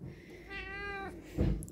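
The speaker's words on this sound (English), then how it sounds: "He has the old man meow." A single drawn-out meow from an old cat, raspy and wavering, close by, followed by a brief rustle.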